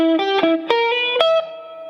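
Distorted electric guitar picks a short four-note sliding lick from the Munsters theme solo, sustained and clear with no voices.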